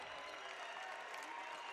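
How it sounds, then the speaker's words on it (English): A high school basketball crowd at a state tournament quarterfinal cheers and applauds steadily, a loud, dense roar of clapping and voices filling the gym without a break. "Richfield crowd on their feet now, cheering on their team"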